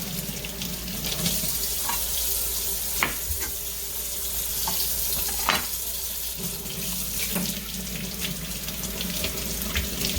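Tap water runs steadily into a kitchen sink while leeks are rinsed, a constant splashing hiss broken by occasional clunks and knocks of handling.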